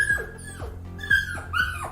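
A puppy gives a rapid series of high, whining whimpers and short yips, about four close cries in two seconds, near and alone.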